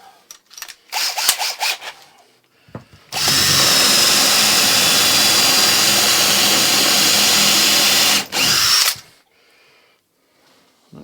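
A Parkside drill bores a small hole in MDF, a few short clicks and revs leading into a loud, steady five-second whine close by, then a brief burst before stopping.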